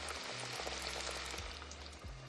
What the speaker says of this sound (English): drop it in the oil.